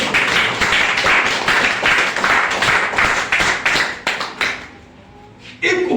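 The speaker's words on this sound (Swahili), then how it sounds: "Oh, pigie Bwana makofi Bwana." A church congregation claps hands together in praise, a dense, steady burst of applause filling most of the moment before fading out, with a brief return at the end.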